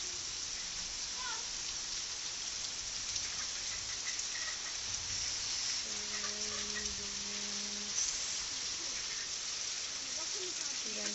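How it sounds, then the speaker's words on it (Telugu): Heavy rain pours in a steady, dense hiss throughout, with a faint voice speaking low in the background. "ఎంత పెద్ద వర్షం పడుతుంది"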